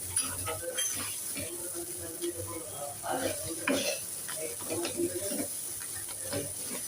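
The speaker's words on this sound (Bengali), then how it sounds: "সরিষাটাকে ভালো করে পানিটা জড়িয়ে ভেজে নেওয়া হচ্ছে" Mustard paste frying in a pan for a sweet, sour and spicy grated raw mango pickle, a continuous sizzle with repeated scraping stirs and small clinks of a spoon on the pan.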